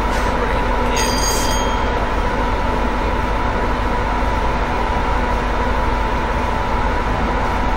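A Class 86 electric locomotive rumbles along the Glasgow to Carstairs line in Train Simulator 2016, with steady loud wheel-on-rail roar, a constant motor hum and a brief high squeal near the start.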